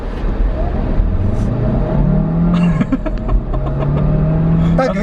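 A 2022 Hyundai Tucson 1.6 turbo hybrid SUV accelerating, a steady interior engine drone with rising tone heard from inside the cabin, with voices talking over it.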